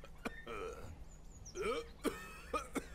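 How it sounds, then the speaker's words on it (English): A man in the video game Memoranda coughs in several harsh, choppy bursts with wheezy catches between them, fairly quiet and close. "He coughs so hard that I don't think we can talk at all."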